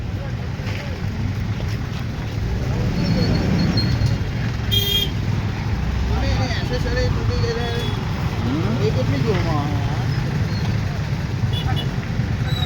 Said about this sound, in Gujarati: તો આ ટ્રાફિક જામ થઈ છે.